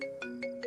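A phone ringtone in a Hindi film scene sounds as short, bright, repeating melodic tones, clear and fairly quiet, with no talk over it.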